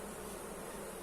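Honey bees buzz at an apiary in a steady, dense drone, close and continuous with no talk, during late-season colony reduction and feeding work.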